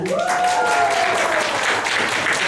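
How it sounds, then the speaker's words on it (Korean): An audience at a talent show for performers with disabilities breaks into applause, a loud continuous patter with a brief rising whistle-like tone near the start. "박수가 나오네"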